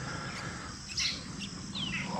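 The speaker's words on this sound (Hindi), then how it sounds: "सुबह ही सुबह परिंदे चहचहा रहे हैं जी रेलवे स्टेशन पे" Small birds chirp and tweet in short bright bursts at a railway station in the morning, over a steady low background hum, moderately distant.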